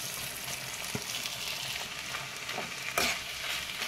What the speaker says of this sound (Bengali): সিদ্ধ করে রাখা মোচাগুলো ভালো করে দিয়ে একটু হালকা নাড়াচাড়া করছি।